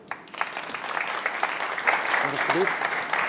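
A studio audience at a Christmas variety show applauds, clapping swelling from quiet to a steady, fairly loud patter, with a voice briefly speaking over it.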